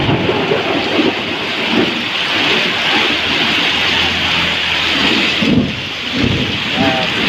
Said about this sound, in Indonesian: Baru ini aku ngeliat langsung ya, ada hujan es batu